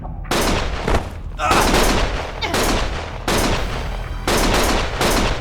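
Gunfire from the action video game Lost Judgment, loud repeated bursts of shots in quick succession, sharp blasts separated by brief gaps, with a shouted voice among them.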